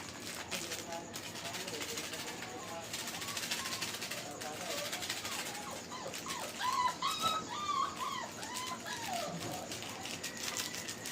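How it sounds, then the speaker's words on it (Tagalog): A dog whimpers and whines in short high cries over a steady background hiss, with faint talk underneath. "Maingay yung aking aso."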